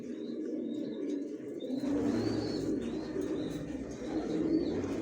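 Pigeons in a new bedding loft coo in a steady low chorus. Faint higher chirps repeat through it, and the sound swells after a quiet opening second, with no one speaking.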